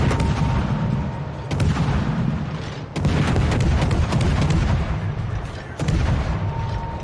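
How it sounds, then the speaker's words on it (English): Naval gunfire from a battleship shooting at the Iron Duke in a naval warfare video game: three heavy booming salvos roughly 1.5 seconds apart, each followed by rolling rumble, under a continuous loud background drone. "This Iron Duke over here, I'm going to start firing at him."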